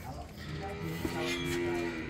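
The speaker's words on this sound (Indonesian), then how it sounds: "Sapi berjenis simental bagus ya dulurku." Simmental cattle low at a crowded livestock market, a sustained moo rising out of steady background crowd noise and murmuring voices, fairly close.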